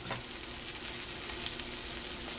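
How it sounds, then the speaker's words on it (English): Steady, quiet sizzling of a small, flat bean patty frying in a pan, a constant crackle with occasional brighter pops. "I'm frying this about 3 minutes per side."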